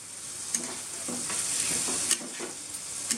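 Coriander, cumin and chilli powder being stir-fried in oil, sizzling steadily with a continuous hiss, and a utensil scraping the pan in several short strokes, close up and without talk.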